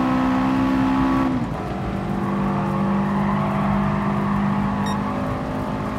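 Subaru Impreza 22B in the racing game GT Sport, engine droning loud and steady as the car brakes hard and slides sideways, its pitch dropping early on then holding a sustained whine.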